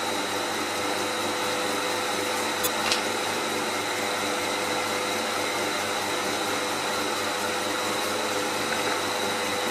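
A milling machine cuts a taper in hex steel, giving a steady, unbroken mechanical whir at an even level, with one brief sharper tick partway through.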